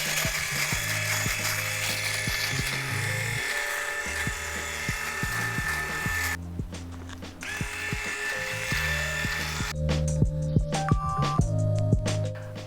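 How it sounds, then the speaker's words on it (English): A buzzing electric shaver runs close and steady, its pitch shifting and dropping out briefly as it moves, with faint clicks, used for shaving before makeup in a natural makeup routine. "I want to start by shaving"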